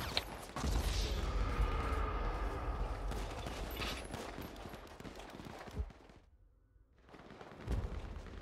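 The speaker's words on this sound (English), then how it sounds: "Oh wait, I have a combat MG." Combat machine gun in GTA firing a long, dense, loud burst of rapid gunfire that runs for several seconds, then drops to near silence before a final short shot near the end.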